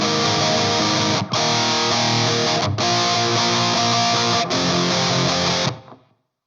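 An electric guitar played through a Behringer UM300 Heavy Metal distortion pedal with a tube screamer in front gives thick, saturated sustained chords. There are brief gaps between the chords, and the last chord is cut off sharply into silence.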